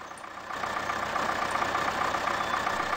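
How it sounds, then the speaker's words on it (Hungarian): An MTZ 82 tractor engine idles in the Spin Tires video game, a steady, fairly quiet low hum that holds even throughout without any revving. "Így az alapjárat megmutatom azért nektek"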